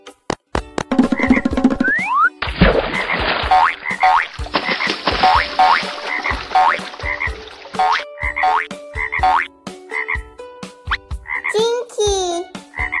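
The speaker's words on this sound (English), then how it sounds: "Frogs? Where are frogs? Oh, there they are." Cartoon frogs croaking in a bright, bouncy series of loud repeated croaks and boing-like calls, close and alone, with springy rising tones near the end.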